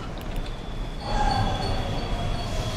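A train rolls along in the game Bendy and the Dark Revival, a steady rumbling hum that swells after a moment and brings in thin metallic squeals from the wheels, with no one speaking.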